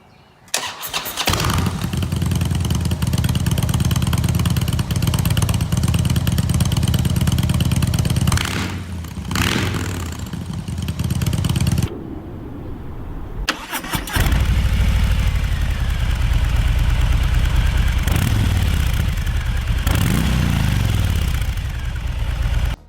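A Husqvarna Nuda 900 inline two-cylinder motorcycle engine fires up and runs with an uneven, Harley-like lope, loud and close, revving and idling with a brief cut-off partway through before restarting.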